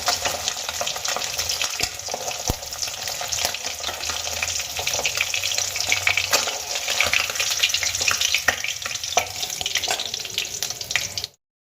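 Fish heads with cinnamon pieces and dried red chilli frying in hot oil for mung dal, a continuous close, bright sizzle and spatter that holds steady throughout and then cuts off abruptly.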